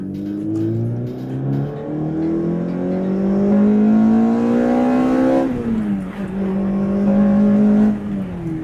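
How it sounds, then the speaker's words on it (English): An old Toyota with a swapped engine growls loudly up close, its pitch climbing steadily, dropping briefly as if shifting, then rising again. "I'm sitting at a stoplight at idle. We're idling at 800 RPM."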